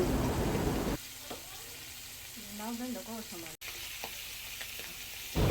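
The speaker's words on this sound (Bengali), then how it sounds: "এখন আম্মু সবগুলো মাছ ভালো মতন ভেজে নিবে" Fish coated in turmeric, chili and salt frying in a pan in a home kitchen, a steady close sizzle with occasional crackles and faint talk in the background.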